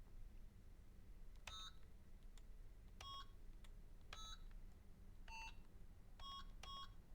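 A telephone keypad in Syberia: The World Before dialing a number: seven short, faint electronic tones in an irregular sequence over a low background hum.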